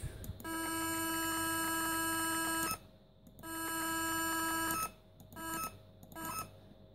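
A simulated electronic buzzer in Crocodile Clips circuit software on a Compaq Armada E500 laptop beeps with a harsh, steady tone in two long stretches, then several short beeps.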